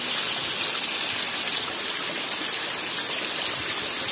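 Heavy rain in the sertão of Pernambuco pours from a spout in a dense, steady rushing gush of water, loud and unbroken throughout.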